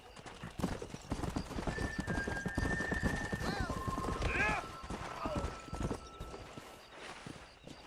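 A horse in the game Red Dead Redemption clip-clops along at a quick pace and lets out a clear whinny, hooves thudding steadily under a voice.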